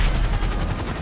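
Continuous rapid gunfire in GTA Online, a dense steady rattle of shots filling the whole moment at close range with no talk over it.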